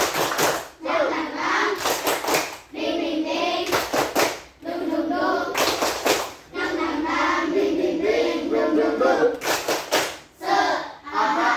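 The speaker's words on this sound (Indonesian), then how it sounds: "Tepuk semangat!" A classroom of students performs a rhythmic spirit clap, sharp patterned bursts of hand claps alternating with loud children's chanting voices, repeated several times.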